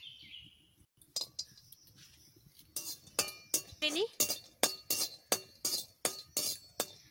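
Cashews rattle and clink in a dry pan, tossed in a steady rhythm of quick scraping bursts, with a brief voice in between.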